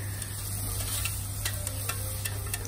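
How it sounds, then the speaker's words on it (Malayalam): Onions fry in hot oil with a soft, steady sizzle and a few light ticks and pops, faint and close, under a constant low background hum. "ഇതൊക്കെ ഫ്രൈ ചെയ്തതിന് ശേഷം ഈ ഓയിലിലേക്ക് നമുക്ക് ഉള്ളി ഇട്ട് കൊടുക്കാം ഉള്ളി നല്ലപോലെ ഒന്ന് വാടി വരട്ടെ"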